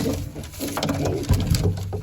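A tumbler pigeon coos close by in soft, low, repeated notes, with light rustling and patter around it.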